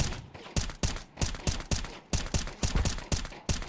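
Glock pistol fire in Counter-Strike 2 during a competitive esports match: a steady run of sharp, evenly spaced shots, about a dozen over a few seconds, loud and close with no talk over them.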